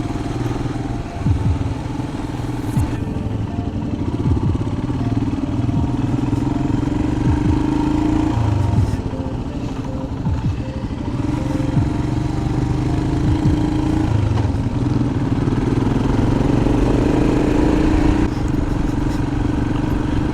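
A Himalayan motorcycle ridden over a bumpy country road makes a continuous loud engine drone with rumbling and wind buffeting, heard close and steady throughout without speech.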